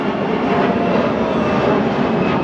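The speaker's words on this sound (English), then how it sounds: "there's planes hovering over us" Airplanes fly low overhead about four kilometers from the airport near temples in Chiang Mai, a loud steady engine roar filling the whole stretch without a break.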